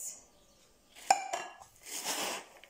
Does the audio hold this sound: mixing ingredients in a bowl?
yes